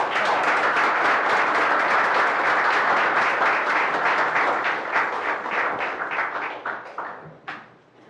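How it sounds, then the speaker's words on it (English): Audience applause at a township committee meeting, dense clapping that holds steady, then thins into scattered claps and fades out. "I think we should give Anthony a round of applause as well for all of his hard work"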